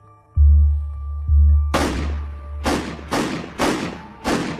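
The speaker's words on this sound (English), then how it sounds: "And then 5 gunshots ring out." Five sharp gunshots fired in quick succession from inside a house, each a loud crack with a ringing decay, following a low rumble and a couple of dull thuds.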